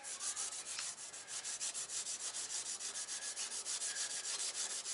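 An RB25DET engine block being wiped dry by hand after solvent cleaning outdoors, a steady close rhythmic rubbing of rag on metal repeating in quick strokes with no talk.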